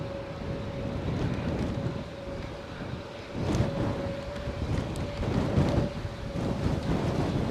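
Wind buffeting a microphone outdoors at Edinburgh airport, a steady broadband rumble with gusty swells and no speech.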